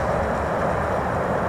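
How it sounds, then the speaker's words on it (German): A train rumbling along at a distance in rural Bavaria, a loud steady low roar holding throughout with no talk over it. "And you can hear the train."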